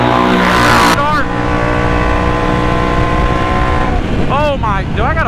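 Several Can-Am Outlander ATVs roar off the start line together, loud engines revving hard and rising in pitch as they accelerate away, with a voice briefly heard over the din.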